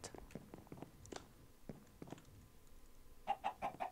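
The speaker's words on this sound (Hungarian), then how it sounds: "Figyelj, csirke!" Chickens in the video game Minecraft cluck in short, quiet bursts, ending in a quick run of four rhythmic clucks. Faint rustling and game noise sit beneath them, with no talk.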